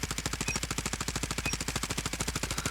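A rapid, evenly spaced burst of automatic gunfire from the CBR4 ranked shooter game, about a dozen shots per second sustained without pause, loud and close.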